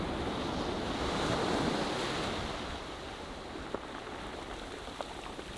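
Steady wash of North Sea surf rolling onto a shore near the Humber estuary, a continuous broad roar with wind noise buffeting the microphone.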